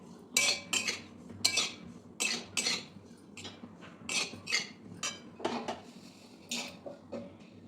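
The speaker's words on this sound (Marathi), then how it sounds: "हे असं सुकंच भाजायचं आहे खोबरं" Grated coconut being dry-roasted in an iron kadhai for dink ladoos is stirred with a spatula, producing a series of close, crisp scraping and clinking strokes at an uneven rhythm, with no voices.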